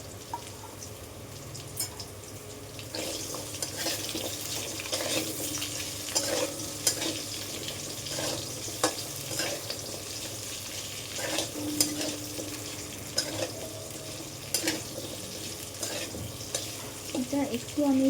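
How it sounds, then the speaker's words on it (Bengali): Potatoes fry in a pan over low-to-medium heat for a homemade Bengali fish curry with aubergine and lentil bori. A steady soft sizzle continues throughout, broken by repeated scraping and clicking as a utensil stirs. "আলুটা দিয়ে একটু নাড়াচাড়া করে তারপরে কিন্তু আলুটা একটু ভাজতে দিতে হবে।"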